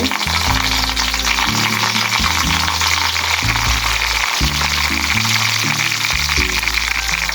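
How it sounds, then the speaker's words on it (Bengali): Onion fries lightly in a pan for white pulao, with a constant loud sizzle over a low, shifting background hum and no voices. "এখন আমি পেঁয়াজটাকে হালকা একটু ভেজে নিব"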